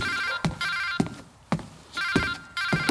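A telephone rings indoors in repeated bursts of bright tones, each burst starting with a sharp knock-like onset, heard nearby with short pauses between rings.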